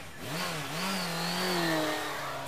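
A motorcycle exhaust in the adventure game Secret Files: Tunguska, a close, rising and wavering engine rev with a rough, unpleasant tone lasting a couple of seconds, heard alone without talk.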